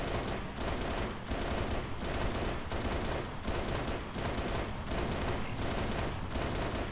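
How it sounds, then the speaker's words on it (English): Beam rifle fire in Halo Reach rings out as a rapid run of loud, close gunshots, evenly spaced at roughly one shot every seven tenths of a second, with no talk over them. "He's still shooting his beam rifle"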